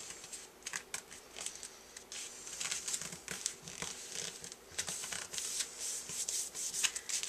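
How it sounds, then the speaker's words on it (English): Paper is creased and folded for an origami gift box, with close crinkling, rustling and short sharp creasing sounds repeating at an uneven pace. "I'm going to start at this corner and fold it to the center line"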